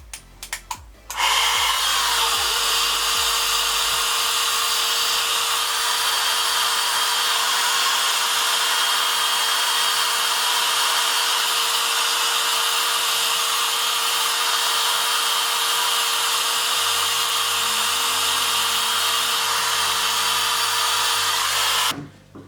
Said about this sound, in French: je prends mon sèche-cheveux en mode air froid